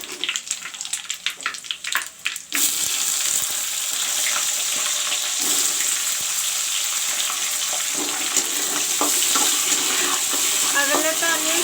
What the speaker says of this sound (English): I will let the onions fry